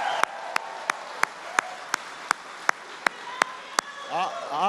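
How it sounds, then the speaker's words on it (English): Steady single claps sound one at a time at an even slow pace from a veterans' gathering, thin and moderately loud over a soft room hum, with a voice starting to speak at the end. "Give Bobby a big round of applause."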